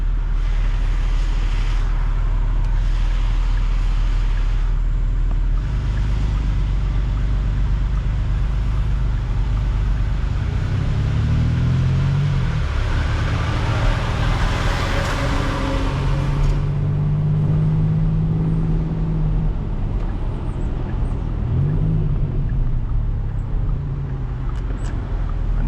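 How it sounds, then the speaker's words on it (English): A 2025 Porsche 911 Targa 4 GTS T-Hybrid driving, heard from the cabin as a steady, loud engine and road drone with a rising engine sweep midway, with no talk. "I'm very, very excited to get behind the wheel of this car, because I own a GTS, and it's the first hybrid 911."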